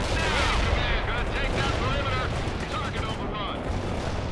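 A sustained wall of World in Conflict combat gunfire and explosions rumbles throughout, dense and steady, with voices talking over the battle.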